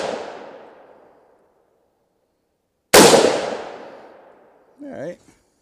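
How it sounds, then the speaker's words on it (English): A 300 Blackout rifle fired at an outdoor range, one loud sharp report with a long echoing decay, the tail of an earlier shot fading at the start and a brief voice near the end. "I'm gonna do a three shot."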